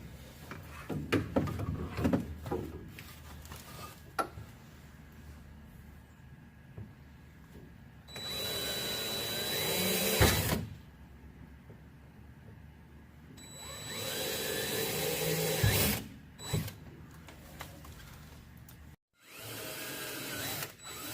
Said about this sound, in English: taking my small drill bit, pre-drilling all these X's on the template in the oval spaces